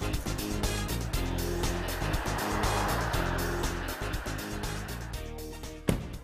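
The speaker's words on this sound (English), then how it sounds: "as we drive the 2015 all-new Kia K900, the flagship" A 2015 Kia K900 flagship luxury sedan drives with a steady engine and road drone, close and continuous, ending in a short thump near the finish.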